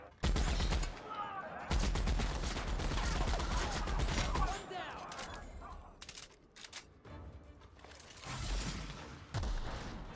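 Gunfire in the game The Outer Worlds, loud rapid automatic bursts in two long stretches separated by quieter moments of scattered shots, with a voice talking over parts of it.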